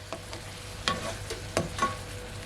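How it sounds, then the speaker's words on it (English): Pre-steamed green beans and shrimp stir-fry in a pan, with soft scraping stirs and a faint sizzle under a low background hum. "Okay, so I added my green beans, making it stir fry."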